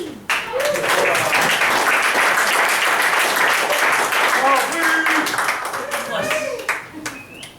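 An audience claps in a sustained round of applause, with voices mixed in under the clapping before it tapers off toward the end.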